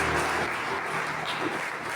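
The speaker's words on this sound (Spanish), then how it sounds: "Denle un fuerte aplauso al Señor." A church congregation applauds during a Spanish-language sermon. Dense, continuous clapping fills the space at an even level for the whole stretch, with no voices over it.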